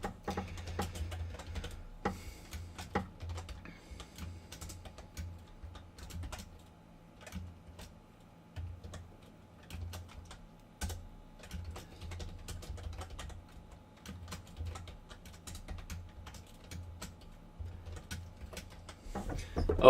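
Steady typing on a computer keyboard while entering HTML table code: a long, quiet run of close, uneven key clicks with short pauses, and no voices.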